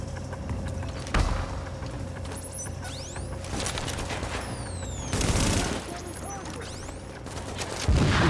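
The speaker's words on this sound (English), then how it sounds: "I'm shooting the turret so he can come out and repair it" Rapid bursts of automatic gunfire aimed at a turret in The Division, crackling over a steady game background with whooshing effects, the shots clustered in dense volleys rather than single reports.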